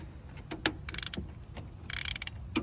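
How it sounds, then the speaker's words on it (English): A 3/8 ratchet clicks in short uneven bursts while tightening a spark plug on a 2004 Subaru Impreza 2.5 TS, close and fairly quiet, with a few louder mechanical clicks and pauses between strokes. "Get your 3/8 ratchet, put it on the tightening"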